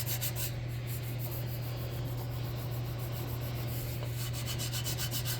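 Steel wool scrubbing a chalky, wet surface in a garage, a continuous loud rasping rub close by over a steady low hum, with no voices.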